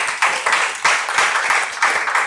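An audience at a power-sector dialogue event applauds a speaker, dense and sustained clapping that swells in a few waves across the room without pause.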